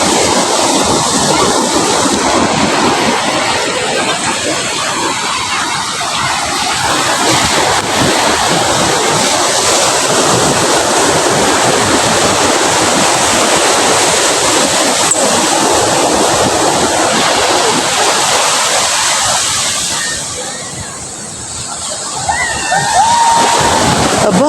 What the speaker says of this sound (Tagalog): may naliligo ng dagat to kahit malaki ang alon